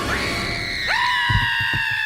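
A child's high, sustained scream from the animated film Monsters, Inc., loud and piercing, rising sharply into a long held shriek over a faint background rumble with a few soft thumps near the end.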